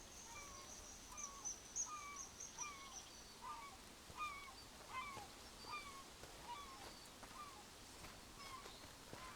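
Seagulls calling in the Eastshade video game, a series of faint, repeated cries in irregular bursts over a low, steady ambient background.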